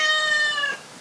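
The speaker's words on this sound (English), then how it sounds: "Wow, my cat's gonna be very vocal today." A pet cat lets out a single clear, drawn-out meow close by, the tone sliding down and fading out.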